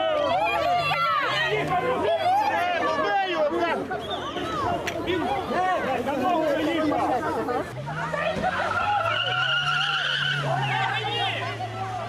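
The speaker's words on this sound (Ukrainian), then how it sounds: "Іномарка протаранює натовп пікетувальників." A foreign car speeds and skids into a crowd of picketers at a street protest. Tyres screech and an engine roars loudly throughout, under constant crowd chatter and shouting, with a long sustained skid squeal building near the end.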